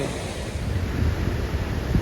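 Steady rushing water roars without a break, a dense continuous wash of noise like a waterfall heard close by.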